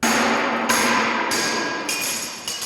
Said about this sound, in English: sounds like we've got we've got large tambourines